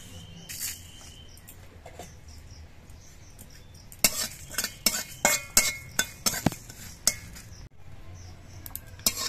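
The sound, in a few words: dry-roasting fennel seeds and dried chillies in a wok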